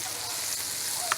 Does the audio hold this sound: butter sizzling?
yes